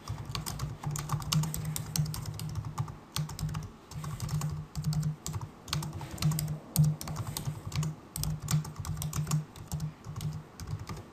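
Steady typing on a computer keyboard while entering text into an online shop's product settings, a dense run of close, crisp key clicks with brief pauses and no talk.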